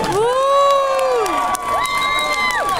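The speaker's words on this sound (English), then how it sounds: "Let's hear some applause. Come on." An arcade expo crowd at a costume contest whoops and cheers loudly, with high sustained shouts and some clapping filling a few seconds close by.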